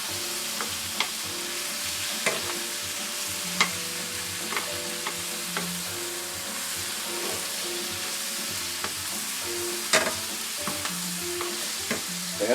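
Spinach stirred in a frying pan, a steady sizzle broken by regular clacks and scrapes of the utensil against the pan, close and clear with no voices.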